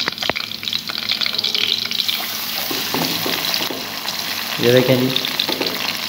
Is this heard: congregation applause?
no